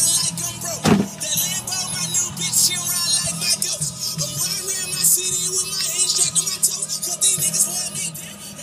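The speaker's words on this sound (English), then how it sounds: "Let's y'all hear the exhaust a little bit on this motherfucker." A 2002 Chevrolet Camaro with the 3.8-liter V6 runs with its exhaust droning steadily and close by, broken early on by one short thump.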